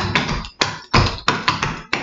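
Clogging heel slur and basic steps tapped out by a dancer's shoes, a run of sharp, loud, close taps falling in a brisk, uneven dance rhythm with short gaps between clusters.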